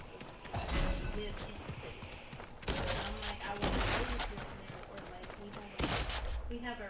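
Pistol shots in the Realm video game, sounding as rapid bursts of gunfire in several clusters, mixed with game noise and under people talking.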